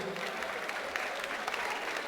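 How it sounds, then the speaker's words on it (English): Audience clapping for Austin at a student orientation programme, a fairly faint, continuous patter of many hands with a few sharper claps standing out. "Please clap your hands together for Austin."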